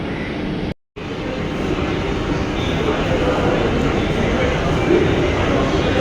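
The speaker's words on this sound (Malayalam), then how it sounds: "അവിടെ വന്ദേ ഭാരത് ട്രെയിൻ ഷണ്ട് ചെയ്യുന്നുണ്ട് ഒരു 1-ാം പ്ലാറ്റ്ഫോമിൽ" A Vande Bharat train shunts at platform 1 of Thiruvananthapuram Central railway station, giving a loud, steady rumbling roar of engine and wheels with a brief dropout near the start and no talk.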